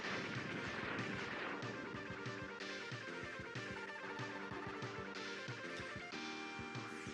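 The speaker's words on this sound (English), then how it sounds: "With a war and anti-aircraft cannons." In the Mega Man X3 video game, anti-aircraft cannons fire in a dense stream of rapid booming blasts. The shots pile up over a loud, busy layer of game music and effects without a pause.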